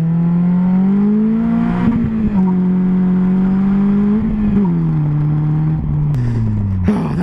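A 2016 Polaris Slingshot's engine drones and revs loudly from close by while driving, with its pitch rising and dipping through several gear changes, and no talking.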